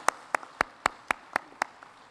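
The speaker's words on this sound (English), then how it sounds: "let's give ourselves a round of applause" Sharp, evenly spaced hand claps at a university president's address, eight crisp strikes in a steady rhythm, close and distinct against a quiet background.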